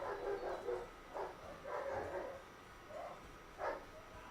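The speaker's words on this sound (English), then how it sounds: "God, the dogs upstairs are noisy today." Video game dogs bark and fight upstairs, a muffled series of yips and barks in uneven bursts, heard at a moderate distance through a steady low background hum.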